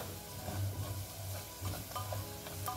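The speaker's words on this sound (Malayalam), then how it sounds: "നമുക്കിനി ഇതിലേക്ക് മഞ്ഞൾപ്പൊടി ഇട്ട് കൊടുക്കാം, മുളക് പൊടി ഇട്ട് കൊടുക്കാം. ഒന്ന് വഴറ്റിയെടുക്കാം." Onions sautéing with turmeric and chili powder in a pan, a steady soft sizzle broken by repeated stirring scrapes, close and fairly quiet, with no talking.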